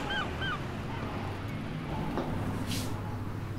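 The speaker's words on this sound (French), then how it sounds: "vous n'avez pas entendu les mouettes?" Gulls call a couple of times early on, fairly distinct cries over a steady wash of outdoor ambience on an early morning near a hotel, then fade out.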